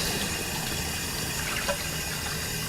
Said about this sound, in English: You're hearing meat getting rinsed, getting some of that blood out, getting that blood out of that meat.